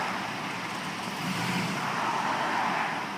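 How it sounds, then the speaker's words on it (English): A 2005 Chevrolet Silverado 1500 work pickup rolls slowly forward, its engine giving a steady, moderately loud low rumble with road-like broadband noise throughout, no voices. "And we're going to roll this Chevy forward for you."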